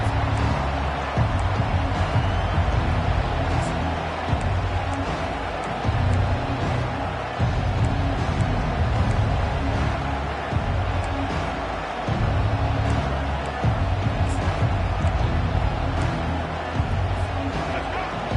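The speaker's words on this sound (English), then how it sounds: "This crowd trying to make life miserable for this offense." Crowd roaring in a college football stadium at Auburn, a continuous dense rumble of thousands of fans under a commentator's steady play-by-play.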